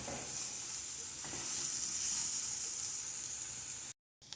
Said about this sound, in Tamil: வெங்காயமும் பச்சை மிளகாவும் ஆட் பண்ணி நல்லா வதக்கிக்கிட்டோம்